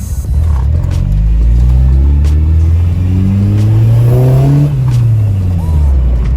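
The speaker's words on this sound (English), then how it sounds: "give you guys some 20 valve sounds" A Honda fitted with a 4AGE 20-valve engine drives, its engine loud and close with rising revs and gear changes throughout, a steady rumble underneath.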